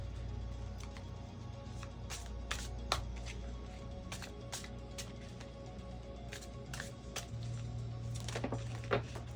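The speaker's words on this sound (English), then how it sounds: "Oh my gosh, so many cards flew." Tarot cards being shuffled, with a run of sharp, quick riffling snaps and slaps scattered irregularly across the clip as many cards fly loose, close and fairly quiet over a low steady background hum.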